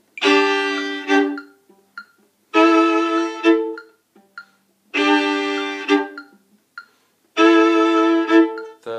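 A trumpet plays two parts combined as four sustained, bright phrases of rising and shifting notes, each ending in short tongued notes, with brief gaps between, close and alone.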